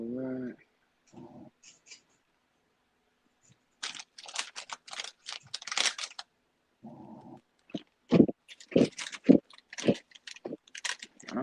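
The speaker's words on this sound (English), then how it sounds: "I'm crushing these hot Cheetos." Crunchy hot Cheetos chewed close up in a loud, irregular series of crisp crunches and bites, with brief pauses and a short vocal sound at the start.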